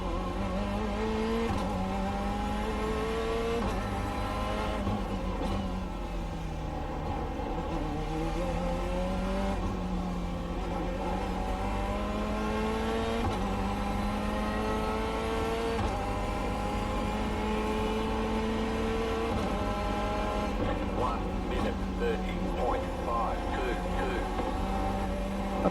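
A Corvette C8.R GTE race car lapping in iRacing: a steady, close engine note climbs in pitch through each gear, then drops at every shift, with repeated upshifts and downshifts through corners.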